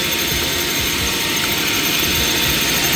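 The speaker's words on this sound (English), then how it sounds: "now I'm gonna cut it in half." A power tool cuts through a wooden curve rail, a loud continuous whining drone with a steady rough rumble, close and alone.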